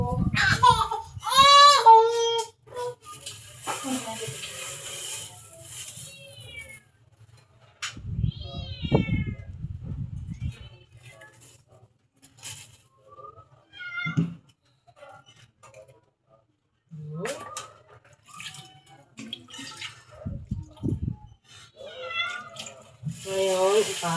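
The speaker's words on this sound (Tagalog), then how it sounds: "ipakain ko sa aking pusa ang hasa." A hungry house cat meows repeatedly in a home kitchen where fish is being cooked and fed to it. The cries are close and insistent, come in several rising and falling calls, and sound among ongoing talking and kitchen clatter.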